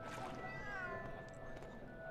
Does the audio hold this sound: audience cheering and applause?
no